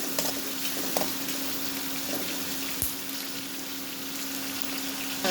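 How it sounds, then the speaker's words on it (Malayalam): Onions, green chilies and ginger sauté in a pan for a beef curry, with a soft continuous sizzle and a few faint scrapes and clicks of stirring. "പച്ചമുളകും ഇഞ്ചിയെല്ലാം നന്നായിട്ട് വഴറ്റി കൊടുക്കണം."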